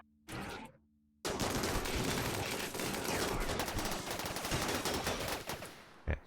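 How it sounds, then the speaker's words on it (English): Rapid, loud gunfire in Rimworld as colonists shoot at a centipede, a dense volley of shots after a brief opening sound and a moment of silence. "everybody else is shooting it"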